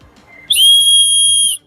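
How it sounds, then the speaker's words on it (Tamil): A whistle built into a battery-powered bicycle light gadget at a handcrafts expo gives one loud, shrill, steady tone lasting about a second, close to the listener, over a faint background murmur. "இதை ஆன் பண்ணிட்டு இதில் விசில் இருக்குது மேடம்."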